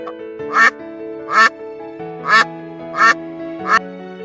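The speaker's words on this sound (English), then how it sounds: "duck." A duck quacking five times at an even, steady pace, each quack loud, nasal and close, with a sustained low tonal drone underneath.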